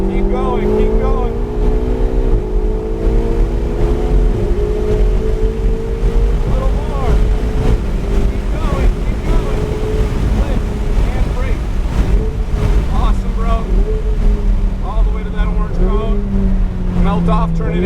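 A race car accelerates at full power on a track during a driving experience. The engine note drones loud and close as the pitch climbs through gear changes, with wind buffeting the mic throughout.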